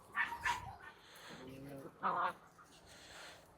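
45-day-old German Shepherd puppies yip and whimper in short high bursts, with people talking nearby between the yelps.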